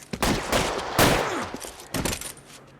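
Gunfire rings out during a shootout in L.A. Noire, a few sharp shots and short bursts spaced across the moment, fairly close with reverberant tails.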